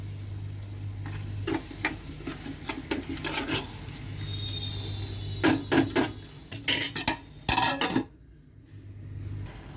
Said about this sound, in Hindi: अब इसी समय में डाल देती हूँ काजू। काजू भी इनके साथ साथ भुन जाएंगे।